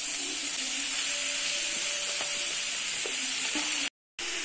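Cabbage, carrot and beans stir-fried in a pan for cauliflower fried rice, a steady loud sizzle with faint scraping of the spatula and a brief cut to silence near the end.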